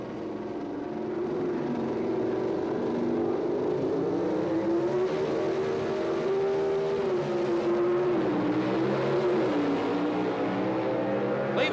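Pro Stock drag cars, a 1978 Ford Fairmont and an AMC Hornet, launch side by side, their engines holding a loud, sustained high-pitched roar that climbs and wavers through the run.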